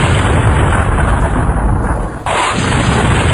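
Missile strike on the Weizmann research centre in Israel, a loud continuous roaring blast with heavy low rumble that briefly dips and then surges again, no voices.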